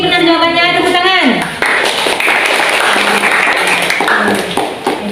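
A class of students claps hands together in a classroom after a voice sounds briefly at the start, giving a loud, dense burst that continues steadily.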